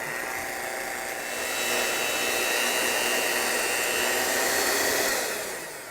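An electric mixer beats vanilla extract into zucchini bread batter with a steady, close, high whirring drone that swells slightly in the middle and eases off at the end, with no talking.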